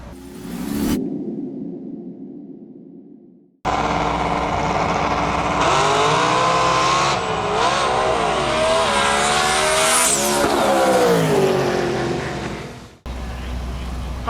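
Drag racing car launching hard down the strip at a Lights Out qualifying event: a loud, roaring engine surges up in pitch through the run and then cuts off, with crowd noise before and after.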